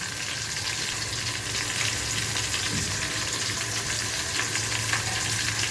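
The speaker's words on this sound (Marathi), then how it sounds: "आणि हे सर्व तेलामध्ये व्यवस्थित परतून घ्या" Cumin seeds and asafoetida sizzle steadily in hot oil, a continuous close frying hiss with faint stirring, no voices.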